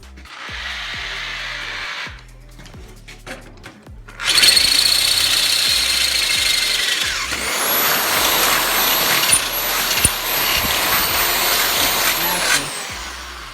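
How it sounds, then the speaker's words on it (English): A power drill whines and grinds loudly up close, drilling a hole for a choke cable, starting after quieter mechanical handling noises, then running steadily with a high-pitched squeal near the end. "I was just drilling a hole for the choke cable."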